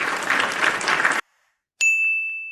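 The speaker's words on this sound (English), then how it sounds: "we gotta drop you a motherfucking applause for that" A short burst of recorded applause, dense clapping for about a second, then a brief gap before a bright ringing ding tone.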